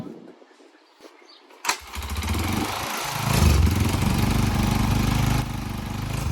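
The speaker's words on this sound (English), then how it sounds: "I'm gonna try to kickstart it, and if it gets running, we'll take the pliers off" A Chinese quad ATV engine is kickstarted, catches with a sharp burst and settles into a steady, loud rumbling idle close by, with low engine throb continuing to the end.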